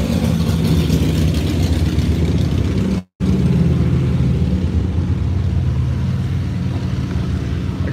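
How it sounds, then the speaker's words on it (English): A group of motorcycles rumbles past, a loud, steady engine roar that holds throughout with one brief dropout near the middle. "Uh-oh, bunch of motorcycles going by."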